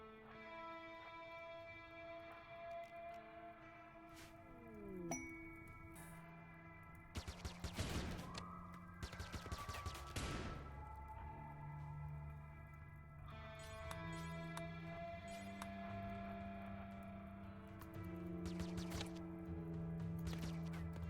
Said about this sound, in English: that needle gun is definitely dangerous